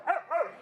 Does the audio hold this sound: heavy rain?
no